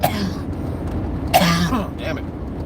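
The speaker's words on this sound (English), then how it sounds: "I haven't coughed like that in like a good couple of hours." A couple of rough coughs and throat-clearing bursts, close by, over a low rumbling background.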